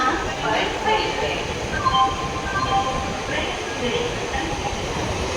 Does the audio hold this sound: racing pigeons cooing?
no